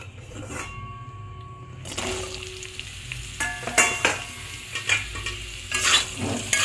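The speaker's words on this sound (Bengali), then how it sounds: "আলু ভেজে নেওয়ার পরে সেই তেলেই আমি ঝিঙেগুলো দিয়ে দেব" Ridge gourd slices hitting hot oil left from frying potatoes, a steady sizzle with clattering stirs and scrapes of the pan that grow busier toward the end; no talking.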